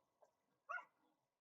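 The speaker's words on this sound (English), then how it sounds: "oh, that's my dog." A dog indoors gives a faint, distant yip and then a single short bark, followed by a soft whimpering trail in an otherwise quiet room.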